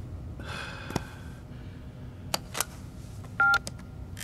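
A short series of touch-tone beeps as a number is keyed in, with a few soft clicks and breaths against a quiet room.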